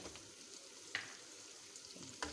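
Cashews, green chillies and onion roast in a hot pan with a steady, soft sizzle, broken by a couple of sharp clinks or stirs near the middle and end.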